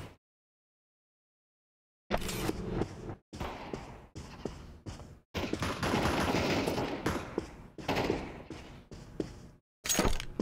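Automatic gunfire in the video game Counter-Strike: Global Offensive, loud rapid bursts and sustained sprays broken by short gaps, starting after two seconds of silence.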